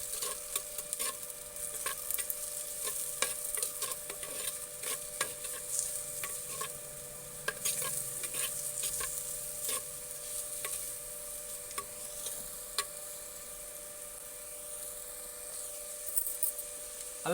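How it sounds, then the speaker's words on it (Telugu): Two large chopped onions and four or five green chillies fry and sizzle in a pan while a spatula scrapes and stirs in frequent irregular strokes, close and steady, with no voices. "ఇందులోకి ఒక 2 పెద్దవి కోసుకున్న ఉల్లిగడ్డలను, పచ్చిమిర్చి కూడా ఒక 4-5 తీసుకున్నా అండి. ఇవి కొంచెం గోలేదాకా కలుపుకుందాము."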